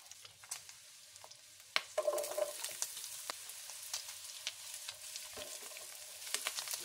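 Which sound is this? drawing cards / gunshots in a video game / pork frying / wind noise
pork frying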